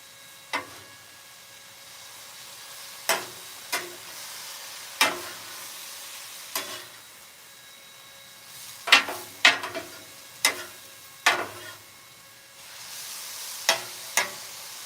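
A soft, steady sizzle of microwaved sweet potatoes frying on a hot griddle, punctuated by occasional sharp pops and crackles.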